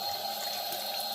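Clothes being hand-washed in water on the Arizona Trail, with a steady continuous watery rushing and sloshing throughout, close and fairly even in level.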